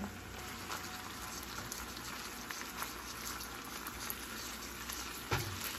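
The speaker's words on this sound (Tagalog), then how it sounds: "Ilagay na natin tong ating chicken." Chicken breast fries in a pan with a continuous soft sizzle and crackle, steady and faint throughout, dotted with small pops and one sharper clink near the end.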